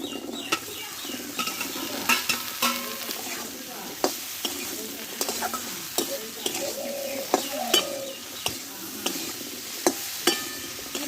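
Cut okra (bhindi) frying in spice masala, a continuous hiss of sizzling oil broken by sharp clinks and scrapes of a spatula against the pan as it is stirred, close and alone.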